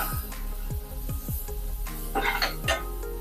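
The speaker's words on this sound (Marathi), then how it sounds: "आता हे सर्व चांगलं मिक्स करून घेऊया" Potato vada filling with spices, curry leaves and coriander being stirred in a bowl, with a steady series of soft scraping strokes and a few light clinks against the bowl, close and moderately loud.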